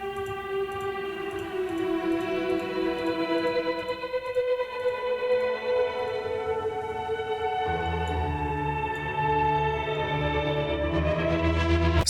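A dreamy, retro synth pad slowly shifts its sustained chords, shimmering tones gliding over a low drone before a deeper bass layer swells in partway through.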